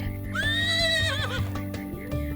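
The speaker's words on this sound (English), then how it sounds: "The horse nodded its head and neighed." A horse lets out a single loud whinny, a high wavering call that drops off after about a second, with a faint hoof clop afterward.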